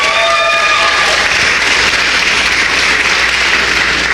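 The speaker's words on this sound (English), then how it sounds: "Please give her a round of applause." Convention audience at a national reparations gathering in Washington, DC breaks into loud, sustained applause, a dense steady clapping that fills the whole stretch without pause.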